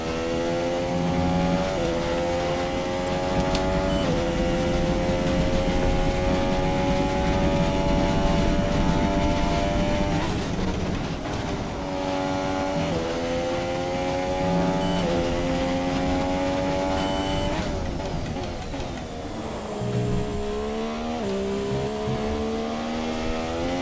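An F1 car in a racing video game runs at full throttle around the British Grand Prix circuit. The engine wails loud and close, rising through the revs with repeated sharp gear shifts that briefly drop the pitch.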